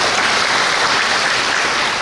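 Audience applause at a talk: dense, even clapping from many hands held at a steady loud level for about two seconds, with no voices over it.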